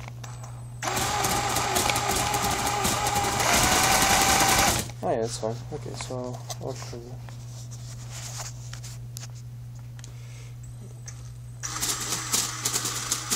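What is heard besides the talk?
K'nex four-cylinder inline DOHC model engine running, turned by drill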